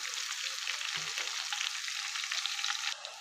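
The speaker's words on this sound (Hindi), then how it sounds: "पलट के इसे अच्छे से गोल्डन फ्राई कर लीजिए।" Pinwheel bites deep frying in hot oil, a continuous close, bright sizzle with a brief clunk near the middle and the crackle dropping off at the end.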